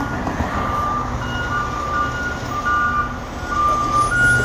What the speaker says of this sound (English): That's the sanitation truck.